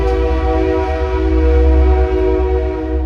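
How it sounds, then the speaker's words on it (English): A loud train horn blares continuously over the heavy low rumble of a passing train, close by. "I don't think it's going to ignore that train."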